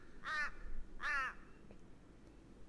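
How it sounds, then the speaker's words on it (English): A crow caws twice in a sample audio track, two harsh, close calls about half a second apart, then fading to quiet background. "which is just birds"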